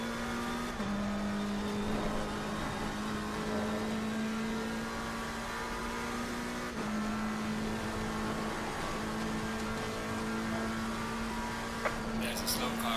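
Race car engine in Assetto Corsa Competizione at Mount Panorama, a steady high mechanical whine held at speed, with a couple of brief pitch drops that sound like gear changes before the tone settles again.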